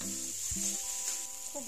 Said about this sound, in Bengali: সব শেষে দিয়ে দিলাম 1 চামচ কাঁচা লঙ্কা ও আদা বাটা, দিয়ে খুব ভালো করে কষিয়ে নেব।